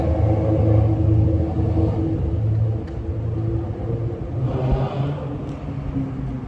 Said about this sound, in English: the sound of traffic and other things may cover over part of what I'm saying